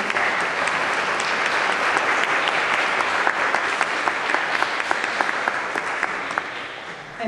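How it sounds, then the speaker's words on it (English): Guests at a banquet give the volunteers a warm, sustained round of applause: steady, dense hand clapping from a large crowd that continues evenly throughout. "So I just wanted to give them a round of applause and thank them for everything that they've done."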